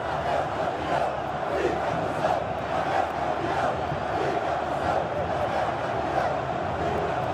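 Corinthians supporters celebrating in a packed São Paulo stadium during a 6-1 derby win over São Paulo, a dense, steady roar of crowd chanting and cheering that holds at an even level throughout.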